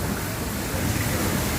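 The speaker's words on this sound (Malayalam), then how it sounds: "വെള്ളത്തിൻ്റെ ഒഴുക്ക്." Steady rush of rainwater flowing during a heavy rainstorm with thunder and lightning outside a house, a dense continuous wash of water noise with no talking.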